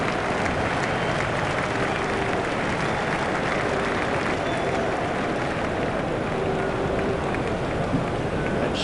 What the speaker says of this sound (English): The crowd enjoyed that one.